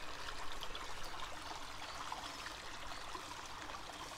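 Water running and trickling down toward a reservoir at Thornton Reservoir in Leicestershire, a soft, steady outdoor wash of flow that holds evenly throughout.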